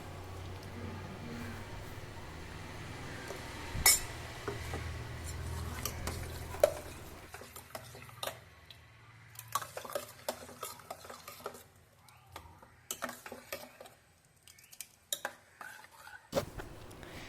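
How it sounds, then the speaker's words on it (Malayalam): A spoon stirs ground paste into a pumpkin and green gram curry, with irregular scrapes and clinks against the pot, fairly quiet and close, with short pauses between strokes. "അരപ്പും കൂടെ ചേർത്ത് നമുക്കിത് നല്ലതുപോലെ ഇളക്കിയെടുക്കാം"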